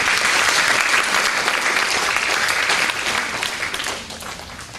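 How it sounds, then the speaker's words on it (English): A forum audience applauds Police Senior Inspector Joanna Gracia Manlacos at a cybercrime event with steady, dense clapping that fills the room and fades slightly toward the end. "Please give a warm hand of applause for Police Senior Inspector Joanna Gracia Manlacos."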